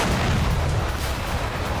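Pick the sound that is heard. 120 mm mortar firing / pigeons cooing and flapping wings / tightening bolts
120 mm mortar firing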